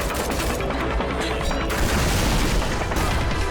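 RPG-7 style rocket launcher explosions in the video game I Am Your Beast, a dense continuous barrage of booms and blasts, loud and close.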